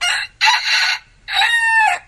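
A rooster crows loudly and close by, two or three bright harmonic calls separated by short pauses, with no talking.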